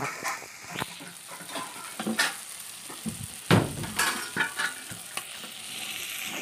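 Prawn curry with garlic and chilli paste frying in a pan, a soft continuous sizzle broken by scattered clinks and scrapes of stirring, one sharper clatter near the middle, no talking.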